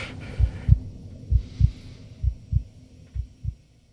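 A video game heartbeat sound effect thumps in four evenly spaced double beats, deep and muffled, with a faint hum behind it and no talking.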